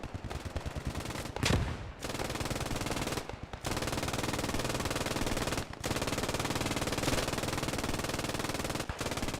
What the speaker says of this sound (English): Once one side's MG reloads, the other side starts firing.